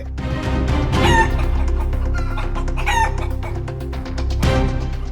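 A dragon chicken, a large heavy-legged breed, clucks repeatedly and crows loudly, with calls rising and falling over several seconds close by and no talking.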